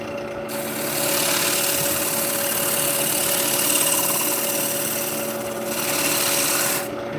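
Spindle gouge making push cuts into a large wooden bowl spinning on a wood lathe, a steady loud rasping scrape in two long passes with short pauses, close and alone.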